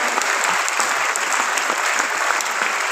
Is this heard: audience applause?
yes